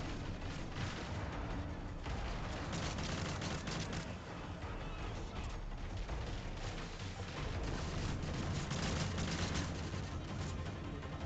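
Constant gunfire and artillery-like booms in Call of Duty Modern Warfare 3 during an assault on the Oscar II submarine, a dense, steady, moderately loud barrage of shots and blasts that never lets up.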